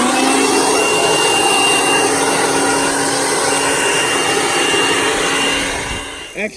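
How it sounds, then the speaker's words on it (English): A leaf blower runs steadily during hurricane cleanup, giving a loud, constant whining roar close by that drops away and cuts off near the end. "I'm just gonna use the blower like this."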